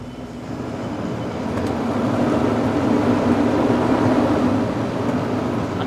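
A DCM truck's engine revs hard with the handbrake set as it climbs out of a deep pothole on a broken Meghalaya road. A loud, steady low rumble swells after about a second and holds, with no voices.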